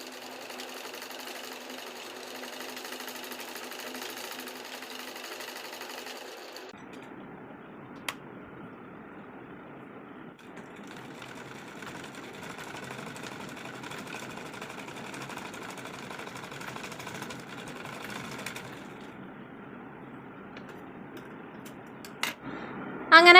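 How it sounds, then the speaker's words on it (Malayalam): An electric sewing machine stitching a lined kurti neckline runs in steady whirring bursts, pausing and restarting with a brief click, close and moderately loud, with no talk. "ആ സെയിം വരച്ചേക്കടെ തന്നെ നമുക്കൊന്ന് സ്റ്റിച്ച് ചെയ്ത് കൊടുക്കാം കേട്ടോ"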